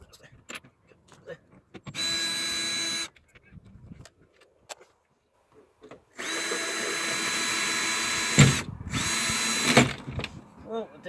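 A cordless drill runs in two sustained bursts, about a second and then several seconds long, backing out the bolts of a tailgate handle at close range, with brief handling clatter in between.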